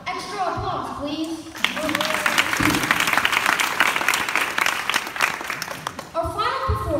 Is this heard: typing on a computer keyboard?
no